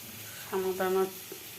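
Food fries in a pan, a brief sizzle swelling for about half a second with a stirring scrape, fairly close and moderate in level over a quiet room hiss.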